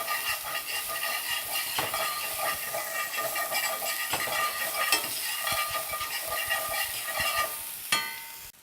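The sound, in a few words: minced shallot sizzling and stirred in cast iron skillet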